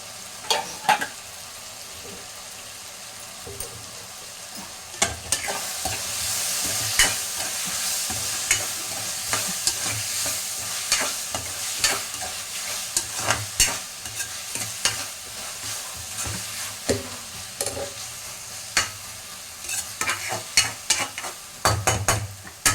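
Prawns stirred and fried in a pan, with a steady sizzle broken by repeated clattering scrapes of a spoon against the metal, loud and close throughout with no talk.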